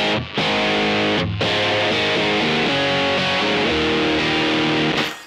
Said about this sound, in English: Like, that is a distortion pedal by its very definition.